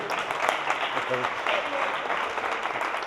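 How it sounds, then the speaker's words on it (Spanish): Audience applause during a public-speaking talk, a moderate and fairly steady patter of claps with a voice talking over part of it. "Un aplauso"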